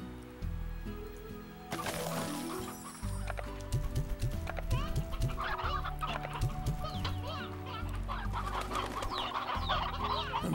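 Briar hens clucking in the video game Slime Rancher, bursts of busy clucks and chatter layered over steady game music, with a brief voice at the start.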